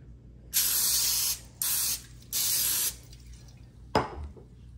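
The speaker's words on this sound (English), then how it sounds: "I'm going to spray it." Three hissing bursts of cooking spray into a loaf pan, each about a second long with short gaps, close by, followed by a brief clatter.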